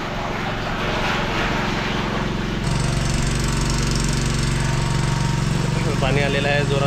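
A water tanker truck's engine runs steadily up close with a low, throbbing drone and a rougher, louder tone partway through, while people talk over it.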